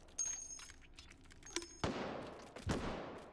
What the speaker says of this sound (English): Somebody wants to shoot at me.